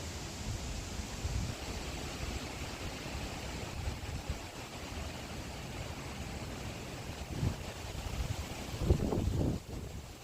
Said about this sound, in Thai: นี่ ลมก็แรงมาก ๆ เลยค่ะ